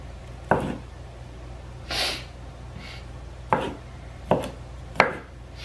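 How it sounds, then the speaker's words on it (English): Knife chopping thawed shrimp into chunks on a board, five sharp, close thuds spaced irregularly about a second apart, with no one talking. "I'm gonna cut these into chunks"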